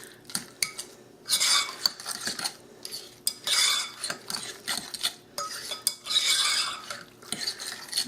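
Egg salad with olives being stirred in a bowl, a spoon clinking and scraping against the dish in quick irregular bursts, close and clear with no talking.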